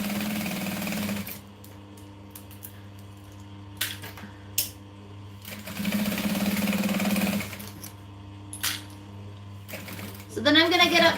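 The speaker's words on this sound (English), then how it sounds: "I'm going to back stitch" A sewing machine back stitches a seam on a business bag, running in short bursts with brief pauses, close and moderately loud, with a steady hum between runs and a final faster burst at the end.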